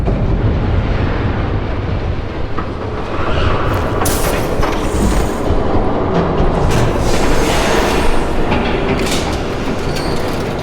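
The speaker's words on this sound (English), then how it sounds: "There's a train coming." A train approaching in Batman: The Telltale Series, a loud, steady rumbling roar of wheels on rails with clattering and metallic screeches building throughout, close and dominant with no voices.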